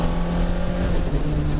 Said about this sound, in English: this car's actually quite nice to drive, like with the bike engine